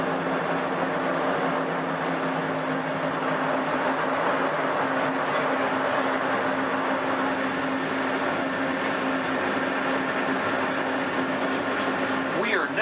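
A Disneyland Resort monorail-style train rumbles steadily into Downtown Disney Station, a constant close interior drone with a recorded station announcement playing over it.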